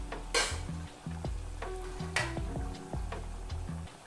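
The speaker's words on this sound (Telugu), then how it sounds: "వీటిని మనము మీడియం ఫ్లేమ్లో ఫ్రై చేసుకోవాలి." Punugulu, small balls of batter, frying in hot oil over a medium flame, with a steady sizzle joined by several sharp scraping stirs and clinks of a utensil against the pan.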